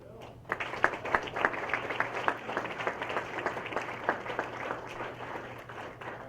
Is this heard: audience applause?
yes